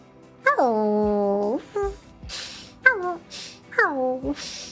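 A human voice imitates a dog, giving a long sliding howl followed by several shorter yips and whimpering barks, close and fairly loud, with breathy noises between them.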